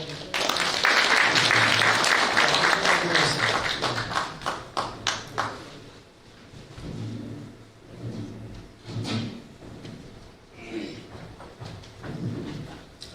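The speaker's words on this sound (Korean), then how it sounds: "우리 이창섭 발기인님을 큰 박수로 환영해 주십시오" At the Open Democratic Party's founding convention, an audience breaks into loud applause that tapers into scattered claps over several seconds, followed by someone speaking.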